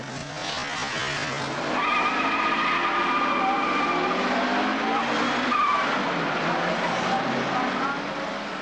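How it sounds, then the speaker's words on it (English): Race cars, including Avenger GTs, roar past on a track with tires squealing in long, sliding screeches, engines loud and continuous throughout. "the three Avenger GTs of Unet, Boyd and Birrell"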